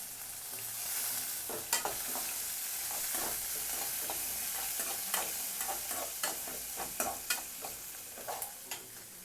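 Garlic, fennel seeds and curry leaves fry in hot oil for a Tamil prawn masala, giving a steady close sizzle broken by sharp scrapes and taps of a stirring spoon against the pan, thickening toward the end.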